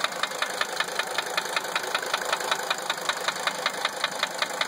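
A 1980 Mercedes-Benz 300 SD diesel idling with a strange knocking, sharp regular knocks repeating several times a second over a steady engine clatter, close up and with no talk.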